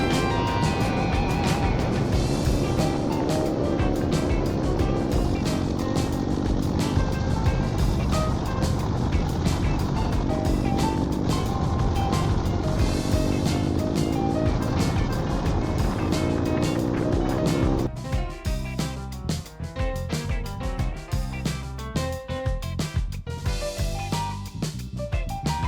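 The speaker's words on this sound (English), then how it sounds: "The next little bit is just me riding on one of the gravel roads that wound through" A dual sport motorcycle rides along a gravel road through forest near Custer, South Dakota, its engine a loud, continuous roar mixed with wind buffeting and gravel crunch for the whole stretch.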